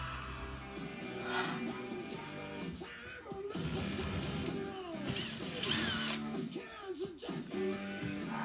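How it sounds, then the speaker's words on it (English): A power drill drives screws straight into a porch deck board, whirring in several bursts of a few seconds each. Clanks and tool handling sit between the bursts, and a voice is faintly audible. "You don't have to drill that in an angle."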